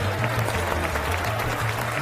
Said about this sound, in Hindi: और तालियों के शोर के बीच